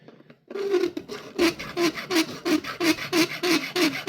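Metal filing on a silver ring clamped in a vise, cutting a channel for a turquoise inlay: a steady series of rasping strokes, about two per second, close and loud, with no talk.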